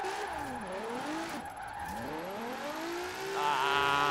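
Engine and tyre squeal from a car drifting at steep angle in the Forza Horizon 4 racing game, with rising and falling engine revs sweeping repeatedly over a steady screech, loud and continuous without talk.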